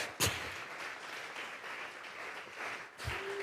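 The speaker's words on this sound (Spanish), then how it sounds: "vamos a regalarle ofrenda de palmas al Dios de la gloria" A church congregation claps its hands together as an offering to God, a sustained wash of applause with a couple of sharper, louder claps near the start and end.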